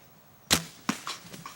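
A bow releases an arrow at a doe during open bow season, a sharp sudden snap followed by a couple of softer thuds and rustles, heard outdoors at close range with no talking.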